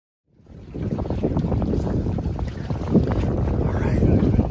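Strong wind of about 20 knots roars across the microphone aboard a Farrier F25C trimaran under sail, a loud steady rush with water noise beneath and no break.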